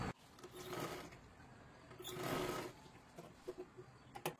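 A sewing machine stitches folded tucks on a katori blouse. It runs in a few short bursts of mechanical whirring, close and fairly quiet, with small handling clicks and taps in between.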